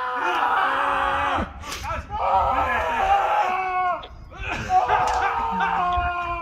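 Two people screaming loudly after tasting an extremely spicy hot sauce, long strained cries with brief gaps and a few thumps, close and intense.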